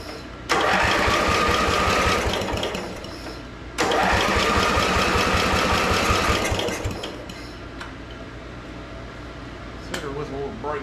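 A 1970s Briggs and Stratton engine on a Montgomery Ward tractor cranks in two long, loud, rhythmic bursts, with a pause between them, and does not catch; the engine may be fouled by a rat nest.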